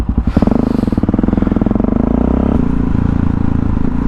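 A motorcycle engine thrums up close while the bike is ridden, with a loud rapid pulsing note that climbs briefly and then settles into a steady rumble.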